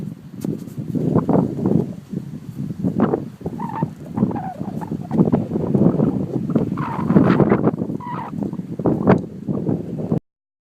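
Wind blows across open hills of the Canadian Shield in April, a steady broadband rush with gusting swells, and scattered bird calls sound faintly in the background throughout.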